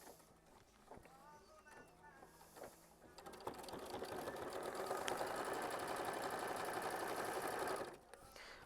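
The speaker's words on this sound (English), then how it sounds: "sew machine stitch step 15 to tack it down" A sewing machine stitches quilt fabric to tack a block piece down. A voice talks briefly first, then a close, steady mechanical whir of stitching runs for several seconds and stops abruptly.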